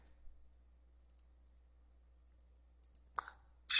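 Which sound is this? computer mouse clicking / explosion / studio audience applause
computer mouse clicking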